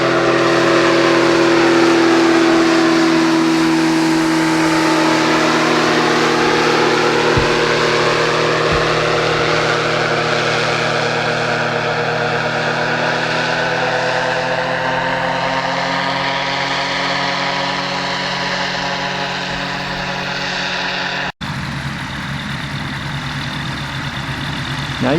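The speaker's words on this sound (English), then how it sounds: "now we're taxiing over to the end of the runway where the parachute is going to be spread out" A powered parachute's engine drones loud and close as the craft taxis along an airport runway at a fly-in, its pitch shifting slightly while it rolls, with a sudden change in tone near the end.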